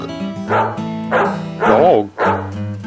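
A dog barks four times in quick succession, close and loud, with bright, tonal, slightly yappy barks and no talking.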